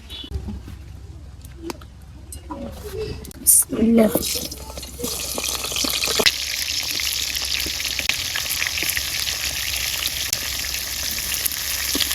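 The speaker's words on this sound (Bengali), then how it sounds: "এক এক করে বেগুন বেগুনগুলো সব বাইজে নেই" Eggplant slices seasoned with turmeric and salt drop one by one into hot oil in a village kitchen, starting a bright, continuous sizzle that builds and holds, with a voice talking over the early clatter.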